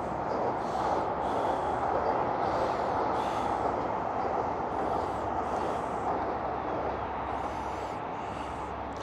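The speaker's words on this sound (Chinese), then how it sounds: "这应该是地铁进站了吧？" A subway train pulls into a station, a steady loud rumble of wheels and motors with hissing air-brake bursts, heard close from the platform with no talking.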